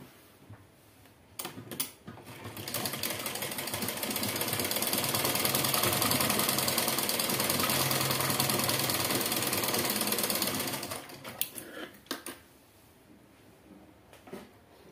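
A sewing machine runs steadily for about nine seconds, stitching panels of a four-piece petticoat. Loud, close and continuous, it is framed by brief clicks and handling sounds before and after.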